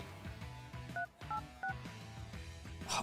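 A few telephone keypad tones beep in quick succession as a call is dialed, heard over louder background music with a steady beat.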